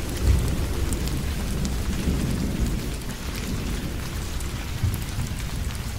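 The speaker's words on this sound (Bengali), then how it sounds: "চারিদিকে বৃষ্টির সাথে দমকা হাওয়া বইছে" Heavy rain pours steadily with gusty wind and low rumbles of thunder, forming a dense, unbroken roar close by.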